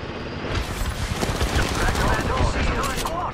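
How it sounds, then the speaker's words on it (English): Dense, continuous automatic gunfire from the Apex Legends video game, loud and close, with sharp cracks layered over a thick rumbling din. "Target spotted. Firing!"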